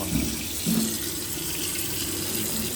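Water drains through a mesh strainer, pouring and splashing steadily in a continuous running, rushing sound with a couple of faint clinks near the start.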